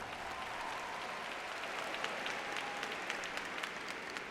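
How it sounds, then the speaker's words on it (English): Applause from the audience at the 2016 Phoebus High School graduation ceremony, a steady, fairly faint wash of clapping from a large crowd with a few sharper claps standing out. "Let's give them a round of applause for that."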